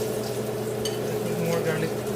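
Ginger and garlic frying in a pan while cooking chicken biryani, a steady moderate sizzle with occasional stirring scrapes and a sharp clink near the end.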